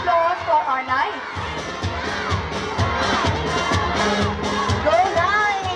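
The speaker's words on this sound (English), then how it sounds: "A huge round of applause for our knights." A college sports opening ceremony crowd cheers and shouts for athletes, with children's excited yells and whoops rising in a loud, continuous wave of voices.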